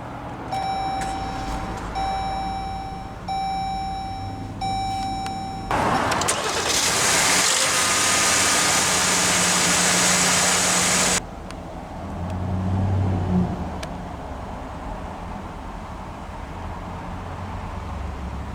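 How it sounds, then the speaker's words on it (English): Chimes beep in a steady pattern, then a 2024 Jeep Grand Cherokee Limited SUV's engine cranks with push-button start and fires with a loud rush before dropping to a smooth, quieter idle. "let's go ahead and start the engine"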